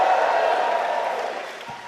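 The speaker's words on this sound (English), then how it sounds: "We got some crowd noise today" Crowd at a live MMA event in Pittsburgh, Pennsylvania, heard as a steady, fairly loud wash of cheering and murmur from a packed arena that slowly eases off.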